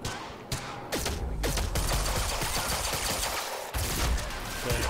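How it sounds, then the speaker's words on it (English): Shotgun fire in the video game Quantum Break, blasts roaring one after another amid a constant din of battle, loud and dense throughout. "That shotgun's pretty powerful."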